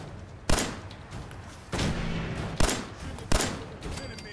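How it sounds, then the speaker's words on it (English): A loud gun fires in the video game Fallout 4: four sharp, close blasts spaced about a second apart, each ringing out briefly over a low background rumble. "Better hear that crazy sounding ass gun going off."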